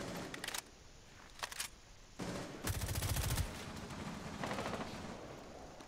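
Gunfire in the video game Rainbow Six Siege, a few short bursts of rapid automatic fire followed by a longer volley, fairly quiet and somewhat distant in the game mix.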